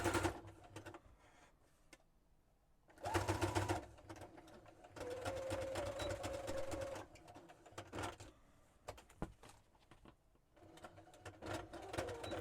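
A sewing machine runs in short bursts of rapid mechanical stitching, separated by quiet pauses and faint clicks, close by.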